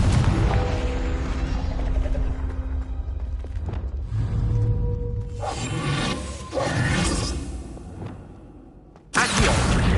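A Confringo fire spell from the Hogwarts Legacy game bursts out in booming, roaring blasts amid mechanical game effects and tonal hums, with a loud burst near the end.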